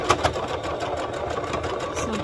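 A home sewing machine stitches back over the start of a seam on fabric for a daisy top, a steady close mechanical whir with quick repetitive ticks, alone and fairly loud.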